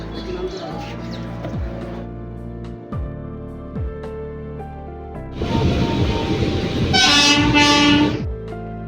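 A train at the Beldanga railway station platform clacks past in a rhythmic run of wheel thumps. Then a loud, close horn blares for a couple of seconds near the end.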